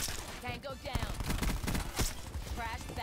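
Rapid bursts of Cordite gunfire from Black Ops 4 Stockpile multiplayer, dense repeated shots running through the whole stretch at close range, with a voice talking over the firing.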